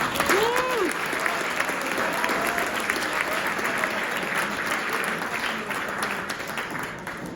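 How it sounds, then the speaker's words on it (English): A room full of people breaks into a sustained round of applause for an absent player at an awards gathering, steady dense clapping that holds for several seconds. "we'll give a round of applause for him."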